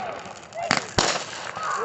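Backyard July 4th fireworks at a family get-together pop in two sharp, near bursts over a crackling, hissing background.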